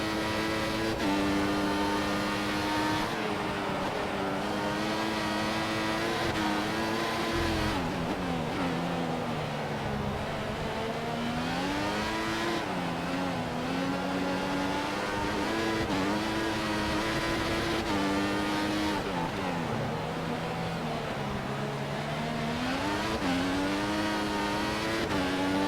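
Formula 1 race cars in the F1 2014 video game, Brazilian Grand Prix, their engines whining loudly and continuously with rising and falling pitch through gear changes and braking for a corner, with no talk over them.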